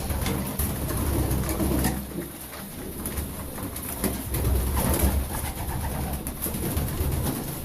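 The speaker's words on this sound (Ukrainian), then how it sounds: "Зараз всі мої голубки." Sport racing pigeons in their loft coo continuously and close by, with soft rustling and fluttering underneath and no talk.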